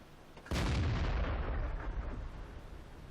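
A self-propelled artillery gun in the tank battle game World of Tanks fires once, a sudden heavy boom followed by a long rumbling decay, loud and close, with no talk over it.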